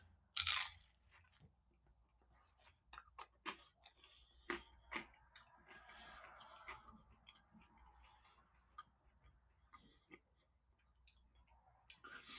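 Crunchy biting and chewing of cheesy pizza dippers dunked in sauce, close up and fairly quiet, with a sharp bite early on followed by scattered crisp crunches and clicks.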